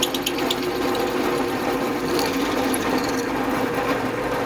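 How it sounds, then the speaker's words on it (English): A power drill boring a hole straight through a piece for a simple greenhouse shelf, a loud, steady whirring motor drone without pause. "what I'm going to do is I'm going to drill a hole all the way through"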